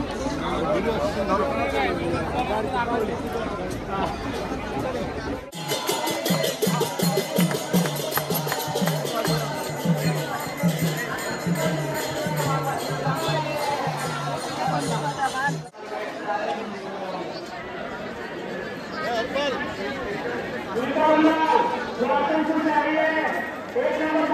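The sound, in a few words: crowd of people at the ghats in Varanasi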